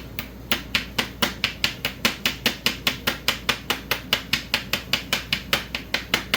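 A small ball peen hammer strikes repeatedly in a tight spot, about four sharp, close metallic blows per second in a steady even rhythm, with no talking.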